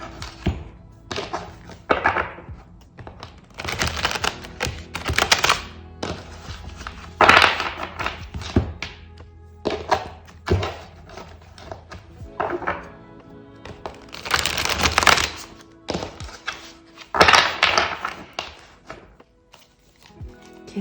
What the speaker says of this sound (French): Attends, je mets les cartes comme ça.